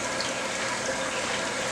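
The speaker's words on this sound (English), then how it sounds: "So you hear that water flowing already." Water runs steadily back into a 55-gallon aquarium tank through its filter, a continuous close splashing rush with no pauses and no voices.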